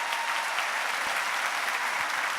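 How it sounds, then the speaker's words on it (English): Audience at a 2017 convocation applauds a superintendent, a steady dense wash of clapping from a large crowd, fairly close and even throughout with no voices. "You can give Tracie a round of applause."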